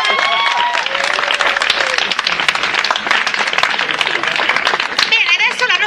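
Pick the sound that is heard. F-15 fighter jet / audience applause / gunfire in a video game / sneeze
audience applause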